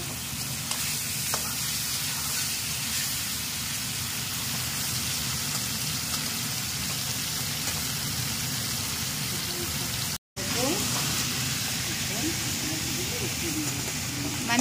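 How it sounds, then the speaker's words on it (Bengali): Prawns fry over full flame in a pan, giving a steady, dense sizzle that runs almost unbroken apart from one brief dropout, with occasional faint voices beneath. "ওই জন্য চিংড়ি মাছ অল্পই ফ্রাই করবো।"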